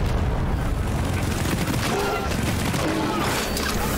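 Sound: grenades exploding in Deep Rock Galactic video game

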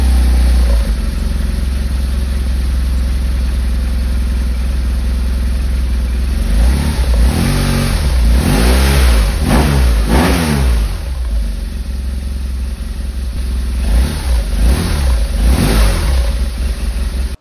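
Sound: BMW R1200S motorcycle engine revving

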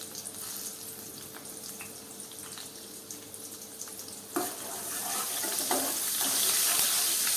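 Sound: garlic, green chili and asafoetida sizzling in tempering oil

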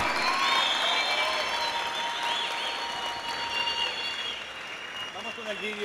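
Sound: loud applause

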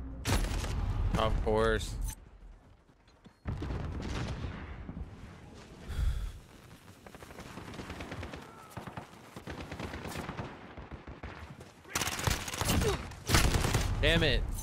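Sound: gunfire in a video game

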